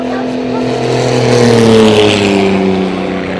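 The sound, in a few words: piston fighter aircraft flying overhead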